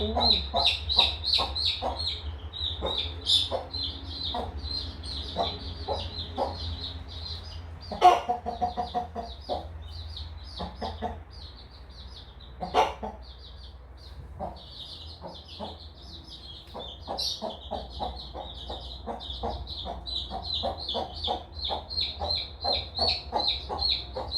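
A hen clucks steadily among the thin, rapid peeping of newly hatched chicks, hidden away in a boiler room; the chirps come in dense, continuous bursts close by over a low steady hum.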